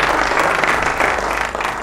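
Applause for women still striving, broad dense clapping filling the whole moment without pause, steady and fairly loud with no voices over it.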